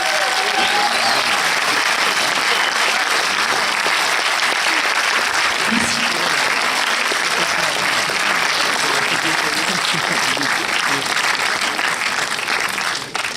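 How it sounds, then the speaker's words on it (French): A premiere audience claps loudly and continuously for the film team, a thick steady wash of applause with faint voices mixed in, cutting off abruptly at the end. "Faut les applaudir."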